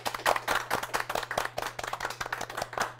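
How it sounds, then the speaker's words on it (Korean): Audience clapping for the MCs at a CEO talk event, a moderate group of hands beating in a brisk, fairly regular rhythm at steady loudness, with a low constant hum underneath and no talking. "오늘 수고하신 두 분의 MC 분들한테 박수 좀 드리겠습니다."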